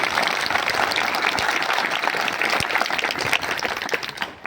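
An audience claps in steady, dense applause that holds evenly for several seconds before starting to thin out at the end.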